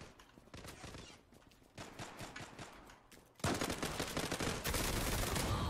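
Rapid bursts of gunfire from the online shooter Zula, a steady stream of loud automatic shots that grows denser and louder partway through, with no talk over it.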